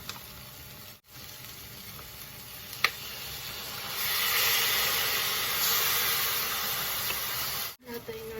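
Soy sauce hits a hot pot while cooking paksiw na pata, releasing a broad, steady sizzle and hiss that swells louder midway, broken by brief clatters and a sharp click.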